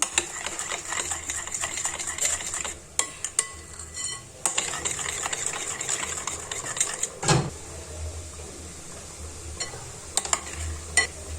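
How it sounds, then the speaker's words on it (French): A spoon stirs chocolate fondant cake batter in a bowl, making soft, steady scraping and clinking close by under a French-speaking voice. "Là, je mélange qu'à la cuillère"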